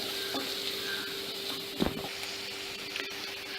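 Ingredients for a Chettinad chicken gravy are sautéed on a low flame, producing a soft, steady sizzle with a few sharp spoon scrapes and knocks against the pan, quiet and close, without any talking.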